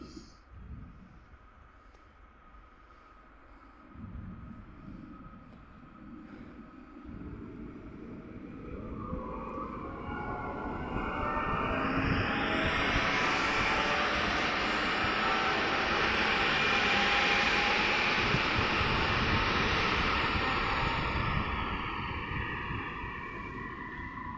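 Elf electric multiple unit train pulling away from a station, a low rumble swelling into a broad, rising roar that stays loud and steady as it gathers speed, with brief speech near the start.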